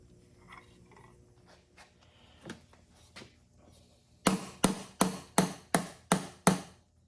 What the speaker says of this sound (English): I have a domed hammer, and I'm going to strike it